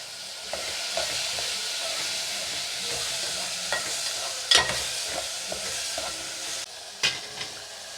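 Onions frying in hot oil in a pan for mango dry fish curry, steady loud sizzle with occasional spatula scrapes and taps, close up and without speech.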